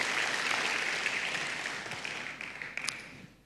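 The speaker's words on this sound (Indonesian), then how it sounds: "Tepuk tangannya yang paling meriah buat Tuhan kita." A church congregation claps for God, a broad wash of applause that starts full and gradually fades away over a few seconds.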